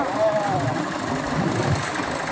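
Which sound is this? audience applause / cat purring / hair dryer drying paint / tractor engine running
tractor engine running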